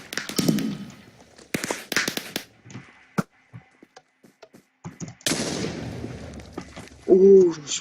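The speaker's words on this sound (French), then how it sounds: "je me suis pris une explosion" Sharp blasts and gunfire-like cracks from the video game Epicube Sheepwars, scattered irregular bursts with quiet gaps, one longer booming rumble near the end, close and fairly loud.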